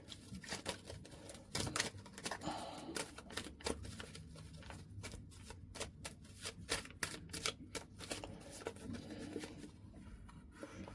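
Tarot cards being shuffled, a steady run of crisp riffling slaps and soft papery flutters at close range, fairly quiet with no voices.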